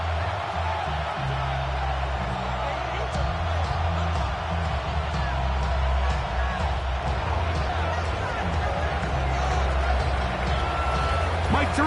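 Football stadium crowd in the Madden video game, a steady roaring wash of cheering and crowd noise that holds without breaks, with commentary voices talking over it.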